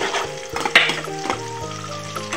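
Chopped chillies and finely chopped onion fry in oil with cumin in a kadhai, giving a loud, close sizzle with quick stirring scrapes and sputters throughout a short burst.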